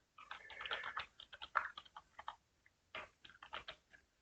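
Someone types on a computer keyboard, quick bursts of crisp close key clicks with brief pauses between runs, heard alone and fairly quiet.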